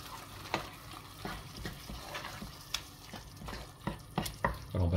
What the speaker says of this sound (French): Allez, on mélange tout ça